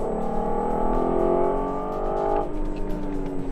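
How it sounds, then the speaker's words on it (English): An Audi TT sports car engine growls hard as it accelerates out of a corner, pitch climbing steadily, then drops abruptly with a gear change and carries on rumbling nearby. "Just a fantastic growl, real raw, pure growl from the engine as it punches its way out of the corner"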